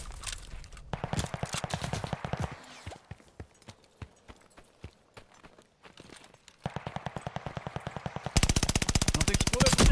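Rapid bursts of gunfire in Call of Duty: Vanguard crackle in loud repeated volleys, with sharper single shots between them and a dense automatic stream near the end.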